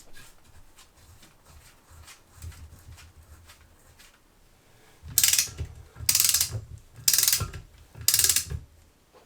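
A torque wrench ratchets on a cylinder head nut during an MG TF head gasket replacement. Faint clicking comes first, then four loud, close, rasping ratchet strokes at roughly one-second intervals.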